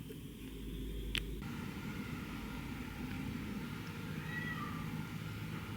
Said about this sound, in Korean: 야옹이 응가했나봐요, 우는 거 보니까